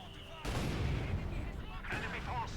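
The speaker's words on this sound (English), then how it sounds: "looks like both mortars being unleashed there" Mortar barrages in Company of Heroes 2, a World War II strategy game: a sudden heavy boom opens a dense, rumbling stretch of artillery fire, with another burst joining near the end, loud and continuous.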